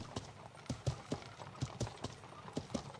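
Horse hooves clip-clop in the medieval survival game Life is Feudal, a brisk uneven trot of distinct hoof strikes at moderate volume, a little close, with no talk over them.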